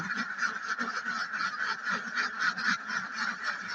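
Hundreds of ducks quack together inside an 800-square-foot duck house in a dense, continuous chorus, loud and close, with no talking.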